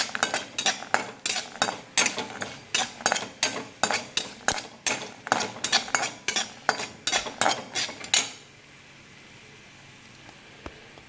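Almonds and cashews frying in a pan, stirred in a quick, regular rhythm of sharp metal scrapes and clinks over soft sizzling for about eight seconds, then the stirring stops and only a faint hiss remains.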